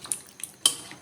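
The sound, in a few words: papaya being added to pot of chicken tinola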